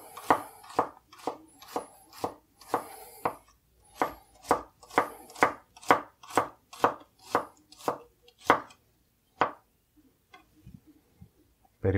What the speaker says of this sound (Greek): Θα κόψουμε λοιπόν τα κρεμμύδια μας σε μέτριες φέτες.